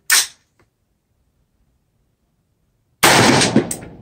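Two sharp, loud rifle shots from a cheap rifle fitted with an LPVO 1-6 scope while confirming a 36-yard zero at an outdoor range; the first blast is short, and the second comes about three seconds later with a longer ringing tail.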